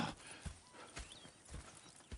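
Horse hooves clip-clop at a steady walking rhythm in the Red Dead Redemption 2 video game, soft and somewhat distant, with no voices.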